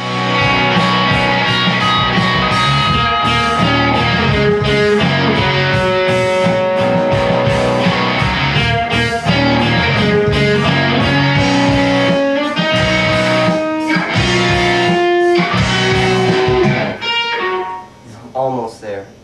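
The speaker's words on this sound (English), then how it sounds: "It's much more of a thicker, more growly distortion" An electric guitar plays chords and single notes through a distortion pedal with thick, growling distortion, loud and sustained, fading out at the end.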